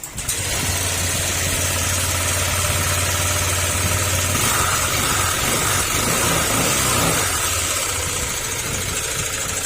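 A loud Honda Click scooter engine idles steadily with a rough, grinding rattle running through it, close by and continuous, with no one talking.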